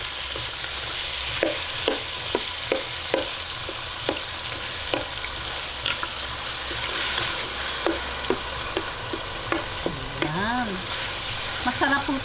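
Ground pork and beef sizzle steadily in a pan while a spatula scrapes and stirs in repeated light knocks, a continuous close frying hiss throughout.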